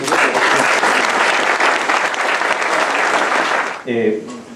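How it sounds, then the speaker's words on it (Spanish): An audience at a talk in Arequipa gives a loud, continuous burst of applause with many hands clapping together, fading near the end as a voice briefly comes in. "Pero un aplauso para Alfredo, por favor."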